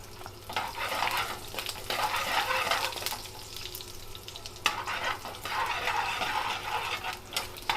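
Fresh garlic slices frying in hot oil in a restaurant kitchen pan for murgh kali mirch, a loud, dense sizzle that swells and fades as it is stirred, with a sharp knock partway through.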